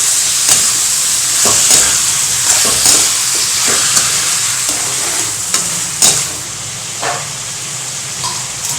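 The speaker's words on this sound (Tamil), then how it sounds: "போட்டு நல்லா கலந்து விட்டுறலாம்." A spoon stirs salt into anchovy dry fish gravy with tomatoes in a hot pan, producing continuous loud sizzling and frying with repeated scraping strokes throughout.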